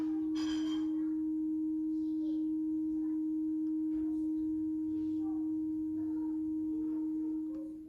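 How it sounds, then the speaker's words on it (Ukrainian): A steady 315 Hz test tone played back from tape on a TEAC V-1050 cassette deck, one continuous clean hum holding level throughout with faint background hiss and small clicks. "Це йде сигнал 315 Гц."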